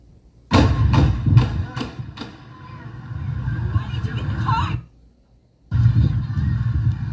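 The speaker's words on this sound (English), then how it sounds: "you hear five shots and then you start hearing more gunfire" Five sharp gunshots in quick succession at a mall in Allen, Texas, then a sustained rumble of noise and commotion that cuts out before resuming.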